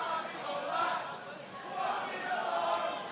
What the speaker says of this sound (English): the crowd really getting behind the Harvey Lomax today